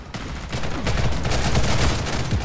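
Repeated shotgun blasts in rapid succession during frantic online combat in Ghost in the Shell: First Assault, loud and close amid a dense, continuous gunfire mix.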